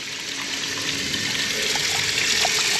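Water rushes steadily through a rain gutter sluice box used for gold prospecting, a close, constant splashing flow with no talking.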